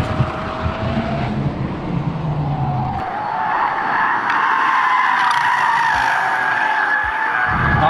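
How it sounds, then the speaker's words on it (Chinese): Hard braking of a front-and-rear dual-motor, four-wheel-drive electric car on a race track after a fast straight, with loud continuous tire squeal and road roar throughout. "重刹"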